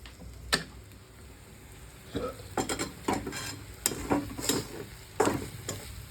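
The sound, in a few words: masala being sautéed with coconut in a pan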